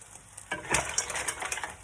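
A lid set down over a pot of mussels, a short clatter of metal followed by a steady close sizzle and bubbling of the cooking shellfish.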